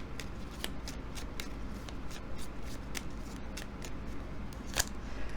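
A deck of fortune-telling cards is shuffled up close, giving a steady riffling patter with sharp snaps and flicks repeating throughout, no voices.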